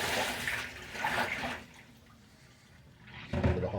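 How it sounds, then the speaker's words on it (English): Water being emptied out of a container during plastic action-figure dyeing, pouring and splashing in two close bursts separated by a quieter gap. "I'm going to empty this water."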